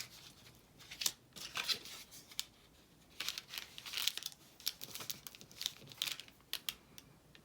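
Irregular crisp snips and crinkly paper rustles, close and fairly quiet, with short pauses between bursts and no talking.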